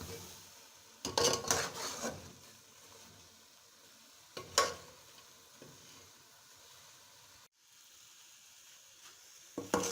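Carrot halwa (gajar ka halwa) being stirred and roasted in a pan, with a few scraping stirs of a spoon against the metal and a soft sizzle between them, close and without talk.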